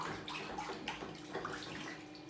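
Water swashed in and out through trumpet tubing during cleaning, a steady close wash of sloshing and gurgling that runs without a break for the whole stretch.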